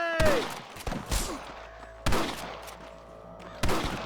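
Rifle shots from snipers in the Western video game Red Dead Redemption crack out three times at roughly two-second intervals, each sharp report followed by a rolling echo, with no one talking.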